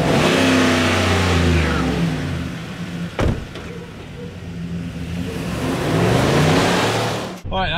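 A Chevy Explorer conversion van's engine accelerating, a loud rising mechanical growl that climbs in pitch in steps, broken by a brief sharp knock partway through.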